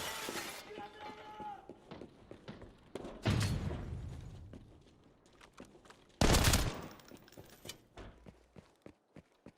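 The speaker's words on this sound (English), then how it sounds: "I heard shooting behind me." Gunfire in a video game breaks out behind the player in loud, sharp bursts, with two heavy blasts and scattered cracks and footsteps between them.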